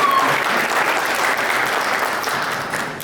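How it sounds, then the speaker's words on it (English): A crowd at a national dinner applauds and cheers loudly and steadily, a dense wash of clapping that holds for a few seconds before tapering slightly. "Let's have a cheer from the host diocese."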